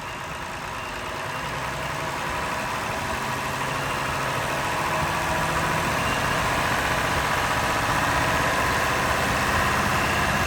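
An air-conditioned bus engine idles steadily and close by, a continuous even rumble and hum that holds for the whole stretch with no talk over it.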